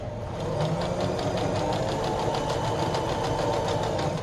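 Sewing machine stitching through T-shirt fabric, a steady, fast mechanical whir with rapid needle ticking that runs continuously and close up, with no voices.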